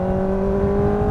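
A motorcycle pulls hard at full throttle in fourth gear, a loud, steady high-pitched engine drone held without a break for about a second.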